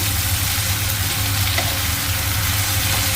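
Aloo chorchori, a Bengali potato curry, sizzles in a pan with a dense, continuous crackling hiss, loud and close, plus a low steady hum underneath and no pauses.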